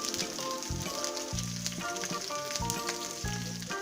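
A bay leaf and three green chillies fry in oil in a pan, a steady hissing sizzle with bright spits and a few deeper scraping stirs at intervals, moderate in level and without voices.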